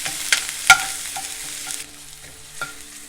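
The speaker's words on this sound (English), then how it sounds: "I am going to add the garlic and the jalapenos to the pan. I am going to saute them" Garlic and jalapenos sauté in hot oil in a pan, a soft sizzle broken by a few sharp scrapes and clicks of a utensil against the pan. No one speaks.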